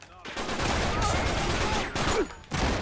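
Gunfire in an Uncharted 3 multiplayer match, with a shotgun among the weapons, sounds as a dense, continuous burst of shots and game noise that fills almost the whole three seconds, briefly dipping near the end before resuming.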